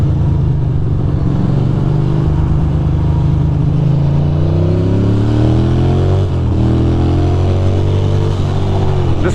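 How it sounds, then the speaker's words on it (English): A Ducati motorcycle accelerates hard out of stalled city traffic in New York, its engine loud and close, rising steadily in pitch over a constant roar of surrounding vehicles. "You could see the biker accelerate out of traffic, frustrated because his time was wasted."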